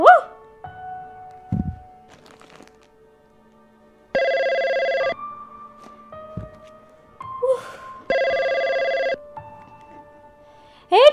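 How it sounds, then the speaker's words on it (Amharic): A telephone rings in a home scene from an Ethiopian drama. There are two loud, steady electronic rings a few seconds apart, with quiet stretches, faint tones and small knocks in between. "አየሉ፣ ምን ሆነሽ ነው እስካሁን ስልክ ስደውል ማታነሹ?"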